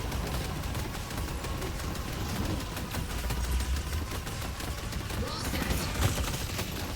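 Rapid, continuous bursts of spectral barrage turret gunfire in a video game, a dense crackling volley that runs the whole time at steady loudness, with game effects layered underneath.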